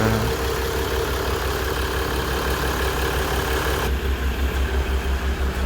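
A 2019 Maserati Levante GranSport with a 3.0 diesel engine idles steadily with the hood open, a close, even low rumble with no change in pace.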